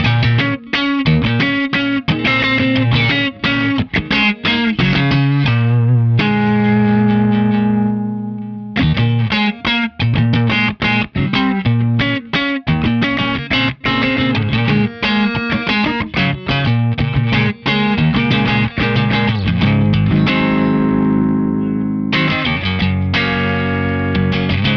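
A single-coil electric guitar through an Eastwood Black Box Series distortion pedal plays loud, driving riffs and sustained chords with barely a break, saturated and buzzing throughout.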